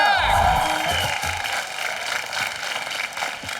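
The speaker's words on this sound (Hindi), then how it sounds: "जोरदार तालियां" A large studio audience at a TV comedy show cheers and whoops loudly with applause mixed in, a dense continuous roar of voices.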